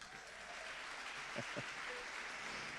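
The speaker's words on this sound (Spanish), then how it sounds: "Fuerte el aplauso para el Coqui." Church audience applauding after a sermon story, a steady even wash of clapping from many hands filling the space, fairly faint and distant, with a couple of brief tonal blips in the middle.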